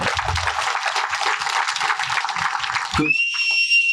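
A crowd at a village political rally claps steadily in a dense, continuous patter, then stops abruptly and leaves a faint high ringing tone.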